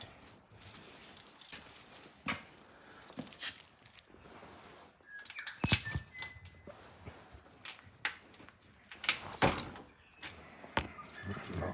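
Keys jangling and clinking in the hand before a cold start of a CZ 175 motorcycle, scattered metallic rattles and taps coming in short bursts over a quiet background.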